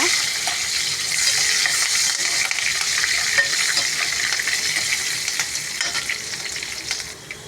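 Garlic, green chillies and onion fry in oil in a pan with a loud, continuous sizzle and crackle. Stirring runs under it with no break across the whole stretch.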